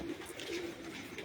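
Pigeons of the Badshah breed coo softly from a rooftop loft in Punjab, a few low, faint murmuring calls over a steady background hum.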